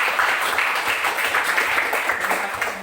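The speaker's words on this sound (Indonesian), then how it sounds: "Kita berikan sekali lagi tepuk tangan yang meriah." A classroom group claps after a presentation, producing a brief, moderately loud patter of applause that holds steady, then eases slightly.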